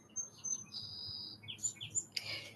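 Birds chirp in short, high tweets and brief trills, faint against a low, quiet background hum.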